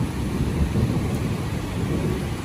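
A steady, broad rumble of a thunderstorm with rain fills the outdoors, a continuous low roaring wash with no distinct cracks and no talking.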